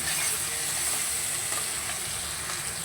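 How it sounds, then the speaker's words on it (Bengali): Onions frying in a pan for a fish head curry, a steady dense sizzle that holds loud and even throughout, with faint scraping of stirring underneath and no voices. "আবারও দেখো ভালো করে আমি নেড়ে ফিরে নেব পেঁয়াজটা একটু ভাজা ভাজা হওয়ার জন্য"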